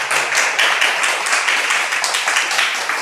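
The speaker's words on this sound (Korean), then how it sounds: "우리 감사의 박수 한번 올려주시면 좋겠습니다" An audience after a lecture bursts into sustained, dense applause, many hands clapping evenly and close for a few seconds with no talk.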